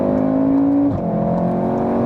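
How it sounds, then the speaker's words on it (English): A 2-litre hot estate car with a DSG gearbox accelerates hard. Its engine drones loudly and steadily, then briefly dips during a quick gear change before pulling on again. "if you hammer the throttle really, then you got that typical DSG sound as well"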